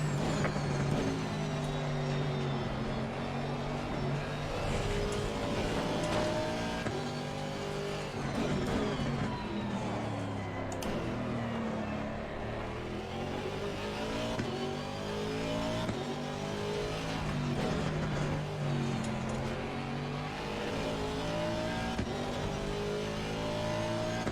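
GT race car engines in Assetto Corsa Competizione, a continuous loud howl that climbs and drops through gear changes, with other cars close by and no talk.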